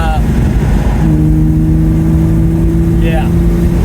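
A Datsun 280Z engine drones steadily while driving on the road, a loud, continuous low hum with the pitch holding nearly level, and someone talks over it.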